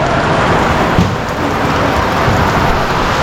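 Heavy rain pours steadily on a roadside stop in Santa Rita, Samar, a dense, even wash of loud broadband hiss with no pauses, and no voices over it.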